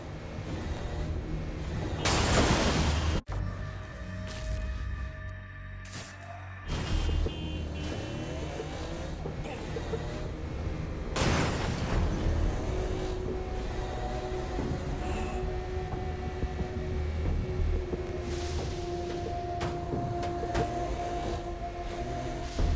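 Car driving in the Saints Row: Gat out of Hell video game, a steady engine drone with gear shifts and passing whooshes, a sharp impact partway through, and constant game ambience with no one talking.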